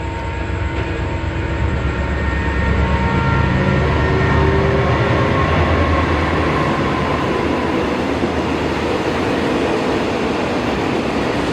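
A heavy CSR freight locomotive rumbles steadily past at close range at night near Laem Chabang, Chonburi, a loud continuous roar with low engine drone and faint rail clatter throughout.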